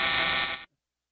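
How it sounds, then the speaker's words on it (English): A loud, abrupt buzzer sound effect on a sports talk radio show blares for just over half a second, then cuts off sharply into silence. "That was a little buzzer there."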